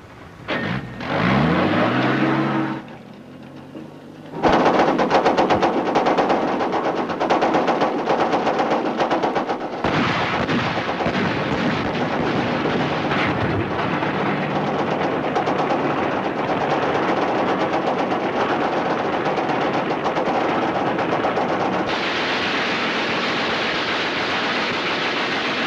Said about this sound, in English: A machine gun's on a balcony